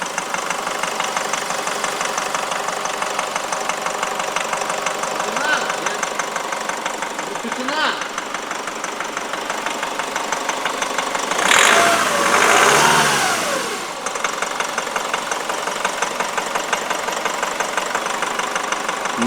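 A diesel Nissan X-Trail engine runs steadily throughout, briefly swelling louder midway as if revved, with faint voices in the background.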